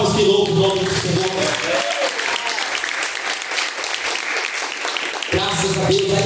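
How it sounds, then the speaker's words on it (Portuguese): A church congregation bursts into sustained, loud applause in praise of the Lord during a live worship service, dense clapping filling the space with a voice and music-like tones over it at the start and end. "As palmas que louvam o nome do Senhor"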